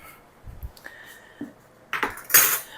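A spoon mixes salt into bread dough ingredients in a bowl, making soft scrapes and taps that build to a few louder clinks against the bowl at the end.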